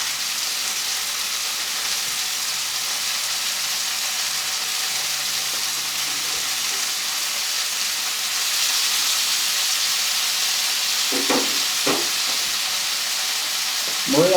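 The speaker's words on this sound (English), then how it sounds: "You just want to brown them and sear them just a little bit" Pork chops browning and searing in a pan give a steady, fairly loud frying hiss throughout, with a few brief clinks near the end.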